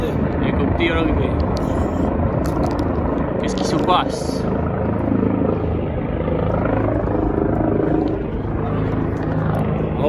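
Heavy rotor noise from a nearby helicopter arriving on Piton des Neiges, Réunion, roars steadily throughout, with a person speaking briefly in French over the din.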